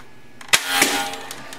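A Nerf Vortex blaster fires a single sharp shot, a loud snapping pop followed by a brief whirring release and faint mechanical clicks, close up with no voices.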